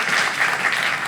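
Audience applause for performer Tariq Mir at a variety show in Barcelona, a dense, steady burst of clapping from a crowd, loud and unbroken.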